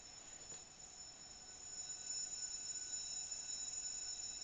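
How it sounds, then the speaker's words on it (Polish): School bell ringing as a steady, thin electronic ringing tone that holds throughout and grows a little louder partway through, alone with no voices. "O, dzwonek."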